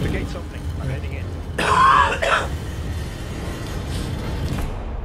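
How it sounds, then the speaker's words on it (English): A person coughs and clears their throat in a burst of harsh, rasping sounds near the middle, set against steady low background rumble from a game. "I'm still coughing my lungs out."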